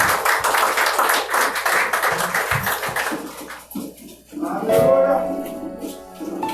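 A church congregation claps and applauds for a preacher in a dense burst of hand claps that thins out. Voices and reverberant room sound take over in the second half.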